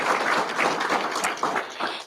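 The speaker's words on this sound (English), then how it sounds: "Give her a round of applause." Scattered applause at a school board meeting for a food service staff member who is absent: a short burst of clapping from a modest crowd in a room.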